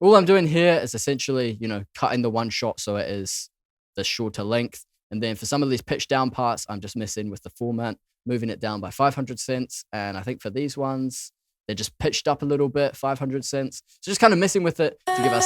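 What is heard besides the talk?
None of the usual background noises is heard.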